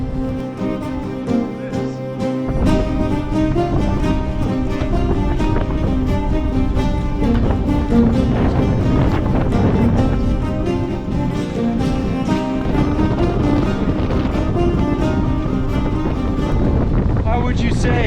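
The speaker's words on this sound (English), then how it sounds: "it is quite windy today" Strong wind roars steadily across a hilltop trail at Signal Hill in St. John's, Newfoundland, a dense, continuous buffeting rush that fills the whole stretch, with gusts swelling and easing but never letting up.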